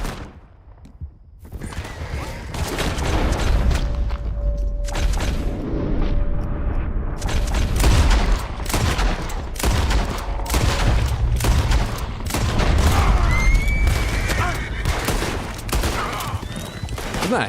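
Gunfire in the Red Dead Redemption 2 video game, a dense barrage of loud repeated shots and booms lasting throughout, with game sounds in the background.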